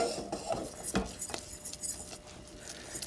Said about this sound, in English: You're going to stir your roux,